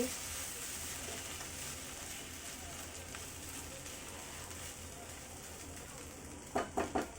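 Prawns sauté in a pan with grated coconut, sugar and green chillies, giving a steady soft sizzling hiss, with a few quick clinks of a utensil near the end.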